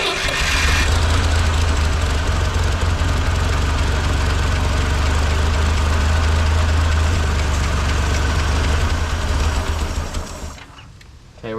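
A 1958 Lull cherry picker's engine, restarted after sitting for 15 years, runs loud and steady with a deep low rumble and rough knocking, then falters and dies near the end.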